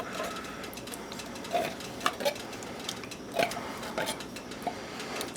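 Broth, tomato paste, garlic powder and canned cream of mushroom soup stirred together in a pot for beef and noodles, giving soft repeated scraping and light clinks of a utensil against the pot, fairly quiet and close.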